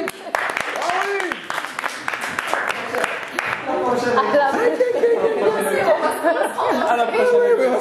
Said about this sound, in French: Merci beaucoup, on applaudit